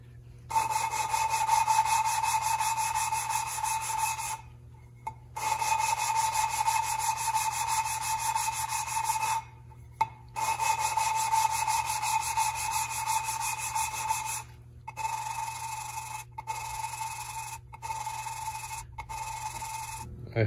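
Steady gritty rubbing and grinding of engine valves against their seats with lapping compound on a 1974 Triumph TR6, in long continuous bursts broken by brief pauses, gradually smoother toward the end as the compound spreads out.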